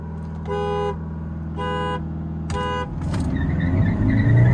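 Three loud electronic start beeps sound in sequence, then a Hyundai Verna 1.5 engine revs up close by and its roar builds steadily at the start of a drag race.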